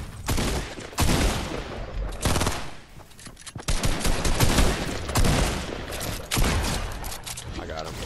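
Rapid automatic gunfire bursts in the Fortnite video game, loud repeated fusillades in several clusters across the clip, with players talking over the shooting.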